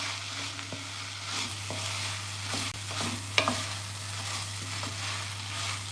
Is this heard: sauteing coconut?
yes